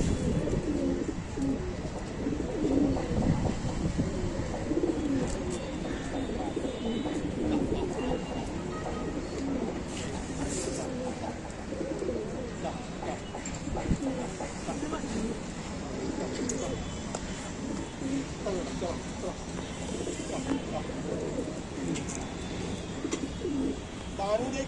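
Low, throaty pigeon cooing repeats steadily under a continuous busy background, with voices talking now and then.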